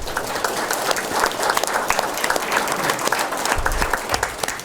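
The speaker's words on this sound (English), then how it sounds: "Y'all give them a round of applause, please." Audience applause fills a room at a Gadsden city council meeting, dense continuous clapping at fair loudness lasting the whole stretch, with a few low thumps near the end.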